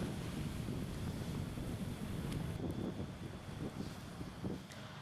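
Strong wind roars across open sea in the Bali Strait during extreme weather, with heavy wave surf churning underneath in a constant loud buffeting wash, no voices.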